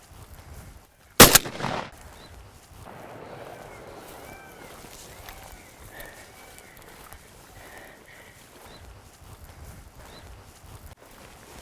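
A single gunshot rings out on a hunt, one sharp loud report followed by a short fading echo, then quiet outdoor ambience.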